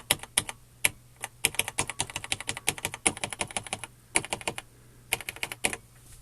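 Typing on the keyboard of a vintage TRS-80/Tandy Model 100 portable computer, a rapid, irregular run of crisp key clicks close up and alone, with brief pauses between bursts.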